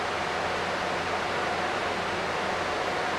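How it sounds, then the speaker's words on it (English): An air purifier runs steadily with a constant broadband whoosh of airflow, even and unbroken throughout, with no voices. "I still hear that air purifier"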